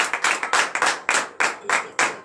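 A congregation at a morning prayer service claps in a quick, uneven rhythm, a few sharp distinct claps rather than a dense crowd, up close and without talk.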